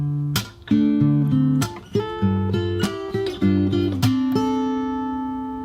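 Fingerstyle acoustic guitar plays two bars from a song, with plucked notes and chords ringing out in a flowing rhythm. It is close and clear, with no talking.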